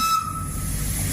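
A train rolls along the rails with a steady rumbling clatter and a high metallic whine ringing over it.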